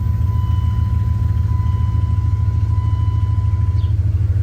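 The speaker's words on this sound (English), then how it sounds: "I'm just gonna fire the truck up" A Dodge truck engine idles with a steady low, pulsing rumble under a thin, constant whine, suggesting a possible vacuum leak, running evenly throughout without voices.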